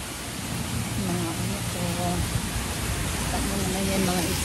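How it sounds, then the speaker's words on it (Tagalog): Rain falls outside as a steady, even hiss of broadband noise throughout, with a faint voice-like murmur in the background. "Oh, it's raining."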